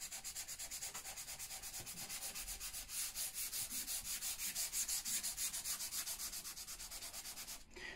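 Sandpaper of 400 grit on a small cork block rubs along the grain of a wooden keepsake box, a steady rapid back-and-forth scratching close by that runs continuously before stopping abruptly near the end.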